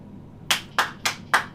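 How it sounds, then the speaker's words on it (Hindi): A church congregation claps, four sharp, evenly spaced claps close by with no one talking over them. "अगर बैठा है तो ताली हो जाइए।"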